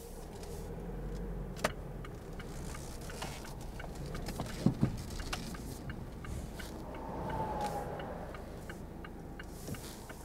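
A quiet cabin drone inside a Mazda CX-3 1.5 SKYACTIV-D diesel on the road, with a steady ticking like a turn signal and a few faint thumps.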